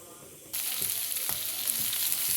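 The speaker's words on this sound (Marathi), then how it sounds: "कांदा भाजायला टाकला आहे चांगला सोनेरी रंगावर भाजून घ्या" Onion roasting in a hot pan with green chilli, coriander, garlic, ginger and coconut: a quiet moment, then a sudden, steady, loud sizzle with faint stirring clicks, and no voice.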